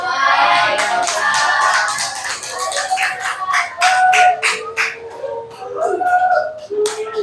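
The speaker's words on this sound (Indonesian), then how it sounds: "beri tepuk tangan untuk kita" Students in an Indonesian-language classroom lesson clap their hands together in scattered, uneven bursts while voices chatter over the applause, giving a busy, close, roomy sound.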